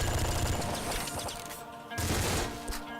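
Rapid minigun fire from the top-down shooter Nuclear Throne, a dense continuous rattle with a brief dip mid-clip before the barrage resumes, loud and close against busy game music and effects.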